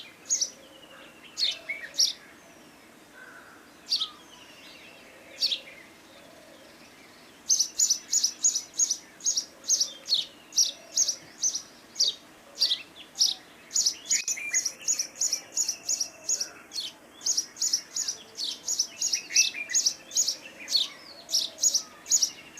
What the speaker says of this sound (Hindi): अब ये थी हिमालयन बुलबुल।